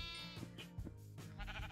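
Minecraft sheep bleat in quick succession, several short wavering baa calls overlapping at close range, quiet with no talk.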